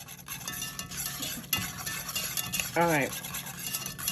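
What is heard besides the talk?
stirring smoked paprika into seafood mac and cheese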